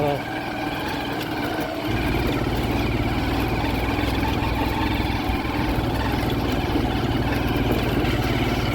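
A dirt bike engine drones steadily and loudly close by on a rural Nepal road, its pitch holding almost constant as the ride goes on, with no voices.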